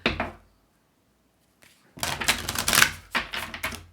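Oracle cards being shuffled by hand, a short riffle of rapid papery flicks, then a pause, then a longer dense burst of crisp card snaps up close, with no talking.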